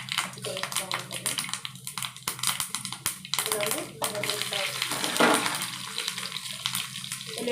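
Mustard and cumin seeds sizzle and crackle in hot oil for a Telugu lentil rasam, a steady fizzing with small pops while a voice talks over it.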